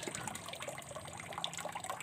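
Water runs steadily from a tap at a washing area for dishes, fed from a source up on the hill. The splashing stream is continuous and close, with no talking.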